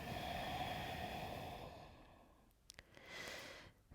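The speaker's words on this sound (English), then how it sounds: "Deep breath in. Deep breath out" Slow deep breath drawn in and let out during a vinyasa yoga flow, a soft airy sigh near the mic, followed by a quieter second exhale after a brief pause.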